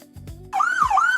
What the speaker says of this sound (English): I hate sirens, man.